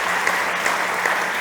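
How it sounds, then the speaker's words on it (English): An audience at a startup competition stage gives a presenter a brief burst of applause, steady dense clapping throughout with a few louder individual claps. "big applause to Alexis"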